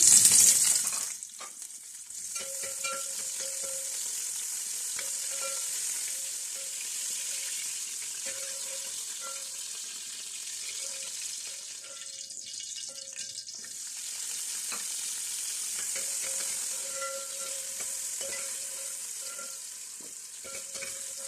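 Vegetables for a winter pulao fry in hot oil in a pot with a loud, steady sizzling hiss, a brief sharp burst at the start, and occasional stirring clatter throughout.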